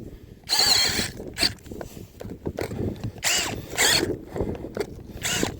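A power drill boring into ground and rock while setting a trap runs in several short bursts with gaps between, the motor whining up and down under grinding noise.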